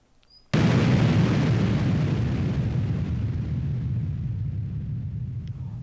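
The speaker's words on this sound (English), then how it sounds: "the climactic explosion burst across the screen" A sudden loud explosion bursts in after a brief quiet moment, then rumbles on in a long, slowly fading roar, a cinematic blast effect with no voices over it.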